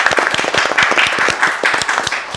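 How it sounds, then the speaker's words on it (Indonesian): Audience applause at a talk show, a short burst of brisk, dense clapping that stays loud and close for a couple of seconds with no speech. "Tepuk tangan kita."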